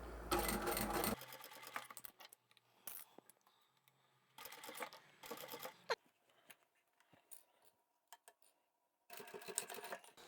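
A sewing machine stitches a small scrap-fabric coin pouch near its zip edge, running in short bursts with quiet pauses and faint clicks between them, close and alone.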